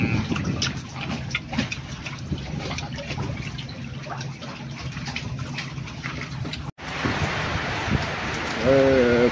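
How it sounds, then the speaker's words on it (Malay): Rain falling at night during a stormy outing, a steady dense patter and hiss of water that drowns out a faint voice, briefly cut off and then returning louder. "Hujan pula malam ni."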